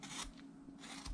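A carving tool scrapes and rasps across a wood block while the neck of a turned head is shaped, two short close bursts of dry scraping with a brief lull between.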